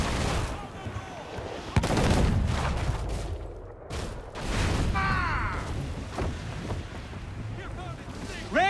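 Heavy ship cannons on a sailing warship in Assassin's Creed 4 boom out in scattered blasts over wind and rushing sea noise, with crew voices shouting orders in between.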